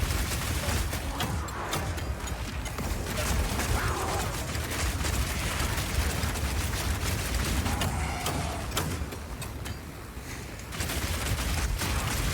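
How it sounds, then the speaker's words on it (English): Explosive grenades going off in the video game Path of Exile 2, a dense run of sharp bursts and clattering mechanical impacts over a steady noisy combat background. "been using explosive grenades here, but it will work equally as well with flash or oil grenades too"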